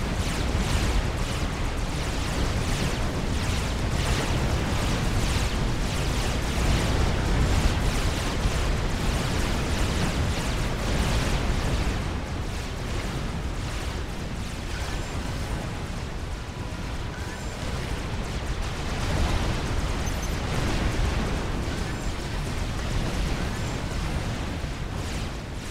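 Explosions and cannon fire from the real-time strategy game Supreme Commander: Forged Alliance form a dense, continuous roar of overlapping blasts and booms, loud and unbroken throughout with no clear pauses.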